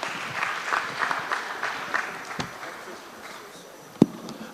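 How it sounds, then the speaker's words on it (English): Audience applause for the panelists at the close of a social impact summit session in Africa, a steady clapping texture that thins out over several seconds, with a sharp single clap near the end. "A round of applause again"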